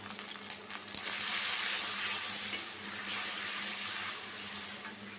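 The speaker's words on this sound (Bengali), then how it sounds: "পেঁয়াজটাও লাল হয়ে গেছে এখন আমি দিয়ে দিব একটু পানি দিব গুঁড়া মশলা প্রথমেই মরিচের গুঁড়া" Onions in hot oil sizzle with chili powder and a splash of water added, a soft, even hiss with faint stirring, fairly quiet and steady.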